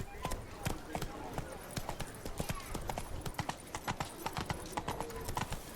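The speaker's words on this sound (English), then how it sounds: "Whoa there, Roach" Horse hooves clip-clop at a steady trotting rhythm on a hard surface in The Witcher 3 video game, fairly close and continuous, with no voices over the hoofbeats.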